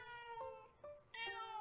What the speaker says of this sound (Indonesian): Kucing busok menjadi satu-satunya kucing ras asli di Indonesia.